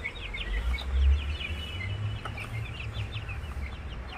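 Young aseel chickens of a Pakistani breed mix, kept in a Mumbai setup, cluck and peep in quick, overlapping bursts close by, with soft low murmurs underneath and no talking.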